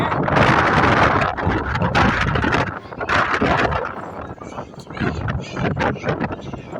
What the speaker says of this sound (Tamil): காற்று நல்லா காற்றடிக்கும். நல்லா விண்டு நல்லா நிறைய இருக்குது.